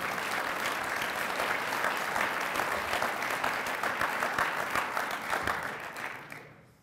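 An audience at a university research lecture ceremony gives a grant recipient sustained, dense applause, with many hands clapping together before it fades out at the end.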